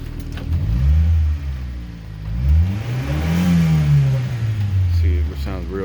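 Engine of a Subaru Sambar KS4 Japanese kei truck revved several times, rising and falling in pitch in repeated swells, close and fairly loud.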